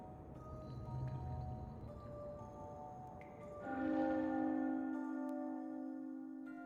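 Somber bells toll in the Shadowverse: Worlds Beyond video game, one sustained bell tone swelling midway and ringing out long and resonant over a dark ambient backdrop.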